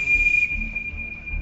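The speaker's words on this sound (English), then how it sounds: "I will blow my whistle as such." A police whistle blown in a tunnel: one loud, steady, piercing shrill tone that holds for the whole moment, slightly stronger at the start, over a low rumbling background.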